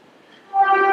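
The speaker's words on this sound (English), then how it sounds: "There's the train." A train near an abbey cloister sounds a brief horn-like tone: faint rumble, then a steady, fairly loud harmonic blast starting halfway through the short moment.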